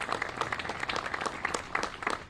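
A crowd applauds steadily, a brief round of many hands clapping together at a moderate distance, during a Providence mayor's public speech.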